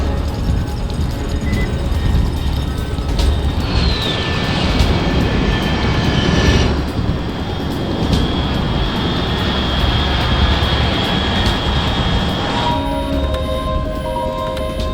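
Aircraft engine roar from the video game Metal Gear Solid Delta, a loud, sustained jet-like drone passing overhead with a rising whine and shifting tones, alone without talk.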